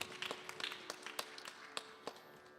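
Sparse, faint hand claps from a small audience at a Friday night satsang, honoring a birthday; irregular scattered claps rather than a full ovation, heard at a distance.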